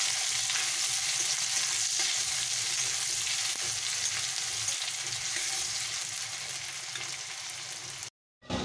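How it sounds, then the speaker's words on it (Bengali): Chopped onion fries in a pan with a loud, continuous hiss and crackle, close and steady throughout, with no voices and a brief dropout at the very end. "এবারে আমি এর মধ্যে পেঁয়াজ কুচি দেব, একটা পেঁয়াজ আমি কুচিয়ে রেখেছি, ওটা দিয়ে দিলাম।"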